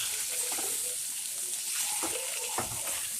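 Bitter gourd bhaji stirred in a pan, a soft steady sizzle with a few scraping strokes of the spoon, close and alone with no talk.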